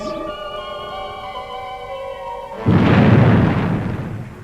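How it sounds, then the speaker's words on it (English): Spaceship retro rockets fire with a sudden loud roaring blast that cuts in partway through, following a sustained electronic hum, then rumbles on with a slow fade. "Fire main retros."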